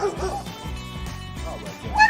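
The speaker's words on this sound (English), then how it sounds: "I hear what sounds like a dog." A large dog, about 200 pounds, barks and whimpers behind a door, giving a few yips and whines at moderate loudness over a muffled background.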